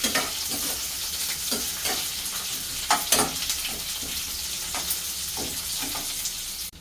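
Onion and coconut roasting and sizzling in a pan for a traditional Bhogi dish, a steady frying hiss with scattered crackles and occasional stirring scrapes, close and fairly loud, with no talking.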